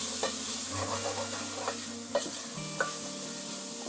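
Chili and turmeric powder are stirred into onions in a frying pan for Sylheti dried-fish shira. Soft, repeated scraping strokes sound over a quiet, steady sizzle, with no voices.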